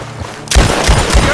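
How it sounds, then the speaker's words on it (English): Gunfire in Red Dead Redemption 2: a burst of loud shots breaks out after a quiet moment and continues as rapid, overlapping reports from antique firearms. "Gunshots are coming from that barn!"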